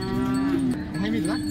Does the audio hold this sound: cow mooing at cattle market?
yes